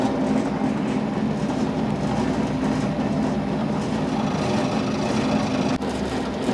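A carbide cutter on a milling machine chews through hex nut stock for a Whitworth nut, a steady loud grinding roar with a dense rumbling hum, continuous throughout and unbroken by speech.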